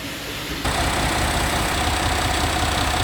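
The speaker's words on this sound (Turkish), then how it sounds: "Dayımın traktörünün sesi çok iyi maşallah." A tractor engine starts up and idles with a steady, loud, low rumbling chug that stays constant, running normally with no abnormal noise.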